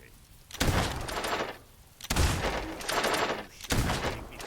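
Gunfire in the video game Fable 2: three loud, close bursts of rapid shots, each trailing off into a rumbling decay, with brief quieter gaps between them and no talking.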